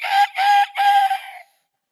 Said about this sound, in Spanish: Ese gallo está como roncón